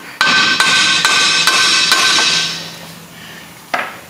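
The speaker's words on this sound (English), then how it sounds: "If you can't pull it out just with the hammer, you're just gonna hit the control arm right here." A hammer strikes the lower control arm of a third-generation Mazda 3 during replacement: about six sharp metallic blows in a steady rhythm, then a pause and one last ringing hit, loud and close.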